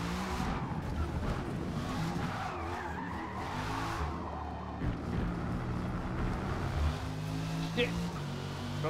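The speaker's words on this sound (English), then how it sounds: "No, I spun out and I just figured I'd do some burnouts." Tires screech and skid continuously in a racing video game as a spun-out car does burnouts, engine noise steady beneath and a voice talking over it.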